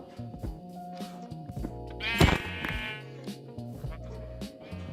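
Sheep bleating in a Minecraft horror game, a single loud wavering bleat in the middle over steady game music and ambient tones.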